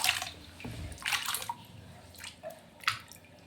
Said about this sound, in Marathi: चांगले स्वच्छ 2 ते 3 पाण्याने धुवून घ्यायचे।